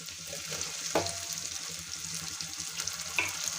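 Chopped tomato sautéing in a pan gives a quiet, even sizzle with a couple of soft clicks and scrapes from stirring, close by but low in level, with no voices.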